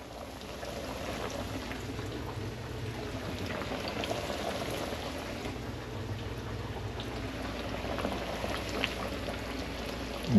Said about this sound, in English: You want your oil to be scorching hot, my people.